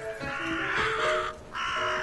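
Harsh crow-like caws from birds in the game Neon Jam Monaco, several rough repeated calls close and fairly loud over a low game hum.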